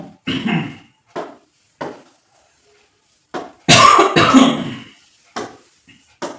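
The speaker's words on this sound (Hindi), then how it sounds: "खांसी हो गया भाई" A series of harsh coughs, a few short single bursts and then a loud, longer fit near the middle, close by with quiet gaps between.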